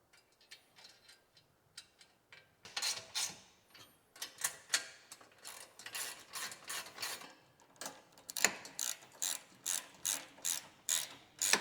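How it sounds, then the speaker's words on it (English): Ratchet wrench with an 11mm socket tightening bolts on a Jeep JLU tray mount, a close, steady run of quick clicking strokes in repeated bursts, sparse at first then growing louder and regular. "You're going to tighten that down with your 11mm socket."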